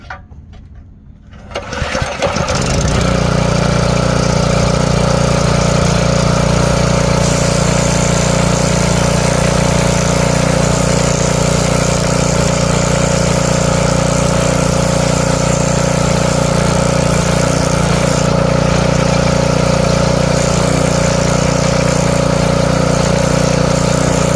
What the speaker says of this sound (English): I'm gonna just go ahead and fire it up, and we can get the crankshaft spinning